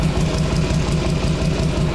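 An early Harley motorcycle engine with a fishtail muffler idles with a loud, steady, lumpy exhaust pulse, close and continuous for the whole moment.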